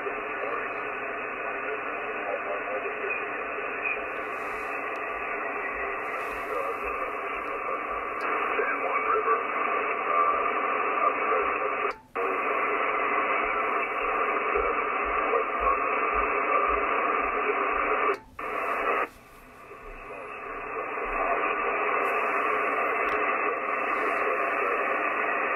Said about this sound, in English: show the two radios in sideband receive with some not-so-great conditions